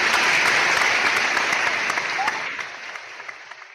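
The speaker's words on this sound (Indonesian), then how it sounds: "Saya mohon tepuk tangan untuk seluruh." A crowd applauds steadily at a news website launch event in West Sulawesi, the clapping dense and sustained before gradually thinning out toward the end.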